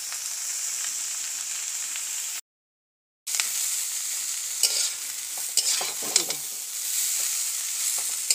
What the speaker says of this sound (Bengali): চাউমিনটা যাতে না কড়াই বসে যায়, আমি সেটাও নেড়ে দিচ্ছি